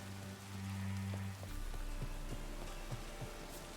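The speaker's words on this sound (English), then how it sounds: "I like rain. Keeps the rogues indoors." Rain patters steadily in the video game The Witcher 3, a broad, even hiss with faint scattered drops and a low hum fading out early on.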